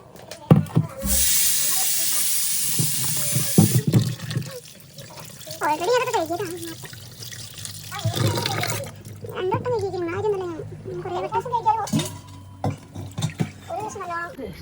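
Tap water gushes loudly into a vessel for a few seconds while rice is washed for making appam, then stops and a person talks over faint splashing and handling noises.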